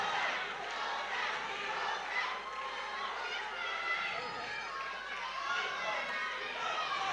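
A huge crowd roars and chatters continuously from one side of a ringside fight venue, sustained mid-distance cheering with swells of shouts throughout.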